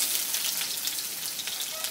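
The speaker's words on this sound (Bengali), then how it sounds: "এখন আমি কড়াইতে দিয়ে দিচ্ছি কুচানো পেঁয়াজ।" Chopped onions frying in hot mustard oil in a kadai, a dense, steady, close sizzle with crackling throughout.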